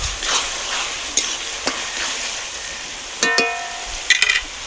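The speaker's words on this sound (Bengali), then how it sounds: "টমেটো বাটা দিয়ে ভালোভাবে মশলাটা কষিয়ে নেবো" Spice masala cooking with tomato paste in a pan, a low continuous sizzle with a few sharp utensil clinks and scrapes against the metal, close up, no voices.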